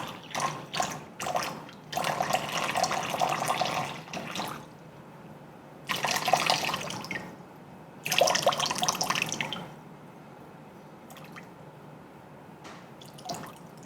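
Cold water from a kitchen tap runs into a measuring container in bursts, each stream splashing and trickling for a second or two, separated by quiet pauses with faint drips.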